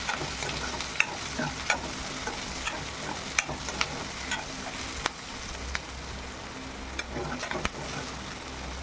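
Crushed garlic frying in a pan for a vegetable bhaji, a steady close sizzle with sharp periodic clicks of a spoon knocking the pan as it is stirred.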